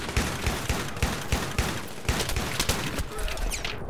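Close-range shotgun fire in Battlefield 3 multiplayer: a rapid string of sharp, punchy gunshots at a steady quick rhythm, loud and near, with a voice talking now and then over the shooting.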